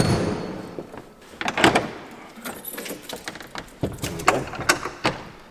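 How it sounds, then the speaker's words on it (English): A heavy door rattles, creaks and clunks shut, and several sharp impacts echo through a large, reverberant space. "That's quite some door."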